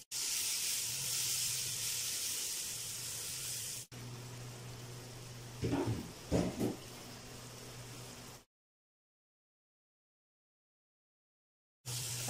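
Tomatoes with coriander powder and salt fry in a pan for an aloo gobi, producing a steady hiss and sizzle with a couple of brief stirring sounds, then sudden silence before the hiss returns.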